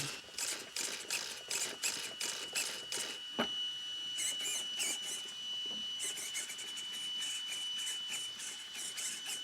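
A strong servo on a Team Corally Kagama RC car whirs in rapid, repeated bursts, close and fairly faint, with short mechanical buzzes separated by brief pauses.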